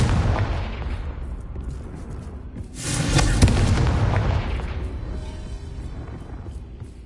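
A Confringo fire spell in Hogwarts Legacy bursts with a deep, rumbling boom that swells midway and slowly fades, set against a dense, loud background roar.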